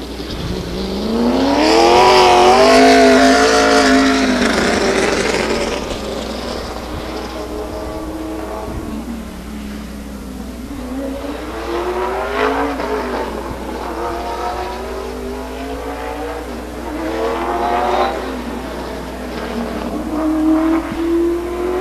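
Race cars at Stockton 99 Speedway in an SRL race sweeping past, engines revving loud with rising and falling pitch as several cars pass in succession.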